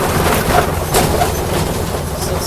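Up close, a train rumbles past on the railroad with a steady, dense roar and faint rhythmic wheel clatter throughout.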